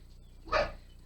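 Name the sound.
dog barking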